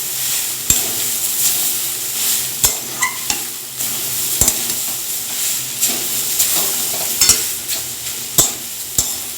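Soya momo filling being stirred in a sizzling pan, a continuous frying hiss broken by sharp, irregular scrapes and knocks of the spoon against the pan, close and clear, no voices.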